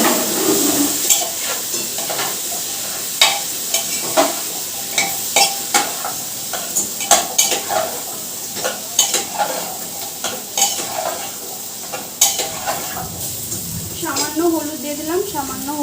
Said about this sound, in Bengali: আলু দিয়ে এটাকে ভালো করে একটুখানি ভাজা ভাজা করে নিই